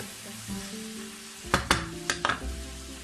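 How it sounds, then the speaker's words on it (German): Potato and zucchini chunks fry in a pan over a soft sizzle, and several sharp scraping and clacking stir strokes cluster around the middle of the clip. "Einfach verrühren."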